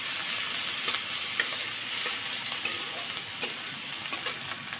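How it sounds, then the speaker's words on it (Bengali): Grated ginger and garlic paste frying with torn dried chillies and cardamom for chicken puli pitha, a steady close sizzle broken by regular spoon taps and stirring clicks. "একটু ভেজে নেব।"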